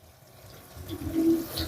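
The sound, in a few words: cold tap water running over rice in strainer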